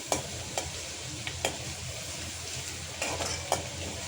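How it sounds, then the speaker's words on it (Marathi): Garlic and curry leaves roast in hot oil in a pan with a steady, close sizzle, broken by a few sharp taps of stirring. "लसणाचा चांगला वास निघून जाईपर्यंत आपण लसणाला चांगलं भाजून घेऊया"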